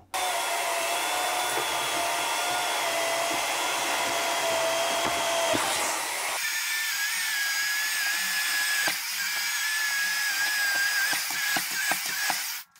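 A Cecotec Conga Rockstar cordless stick vacuum cleaner runs continuously with a steady high-pitched motor whine, close and loud, shifting pitch partway through as the setting changes.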